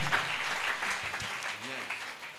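A church congregation applauds and cheers in praise, steady clapping filling the room for a couple of seconds as a voice speaks over it.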